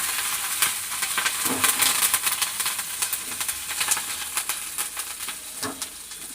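Curry leaves crackle and sizzle in hot oil in a pan, a steady frying hiss with scattered sharp pops and spits running throughout at close range.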